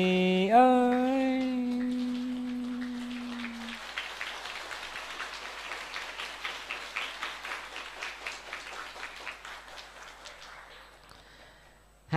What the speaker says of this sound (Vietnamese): Hàng thấy vỗ tay lớn, tưởng tao hát dở mà vỗ tay lớn làm tao mắc cỡ.